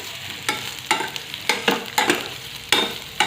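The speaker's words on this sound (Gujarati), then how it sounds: "અને હવે તેમાં આપણે પાત્રાને એડ કરી દેવાના છે. હવે આપણે એને સારી રીતે હલાવી દેવાનું છે." Patra, Gujarati colocasia leaf rolls, stirred through a hot tempering in a pan: about eight sharp scraping spoon strokes at an uneven rhythm over a soft sizzle, close and clear with no voices.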